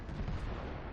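A tank's main cannon firing during a World of Tanks heavy tank mission, a single deep rumbling boom that fills the whole moment and stays loud as it rolls on.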